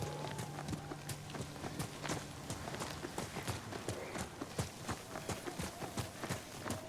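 Steady clip-clop of horse hooves at a riding pace in the video game Ghost of Tsushima, crisp repeated strikes running continuously at moderate loudness with no talk over them.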